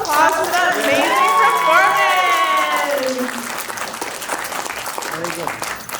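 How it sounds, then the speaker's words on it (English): A round of applause from an audience after a performance at a family gathering, steady and fairly loud, with a singing or sustained voice over the first half before the clapping carries on alone. "Can we please have another round of applause for that amazing"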